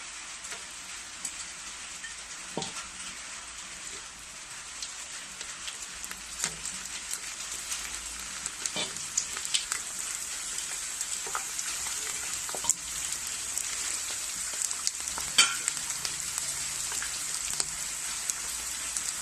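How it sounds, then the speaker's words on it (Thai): Thai mackerel rice crackers fry in oil over moderate heat, giving a steady, dense crackle and sizzle with scattered louder pops throughout and no voices. "พอน้ำมันร้อนแล้วก็ นำข้าวเกียบลงไปทอดได้เลยนะคะ"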